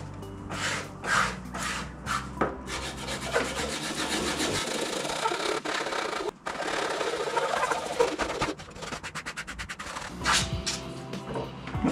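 A rubber cleaning block scrubbed back and forth across skateboard griptape, giving steady, close rasping friction strokes in repeated bursts with no voices.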